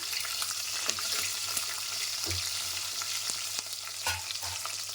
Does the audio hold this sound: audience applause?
no